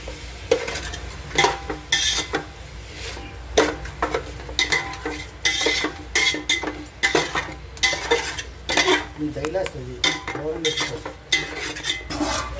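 Biryani masala is stirred together with mint and coriander in a pot for a Hyderabad-style biryani, giving close, irregular scraping and clinking of a spoon against metal, with a faint sizzle beneath.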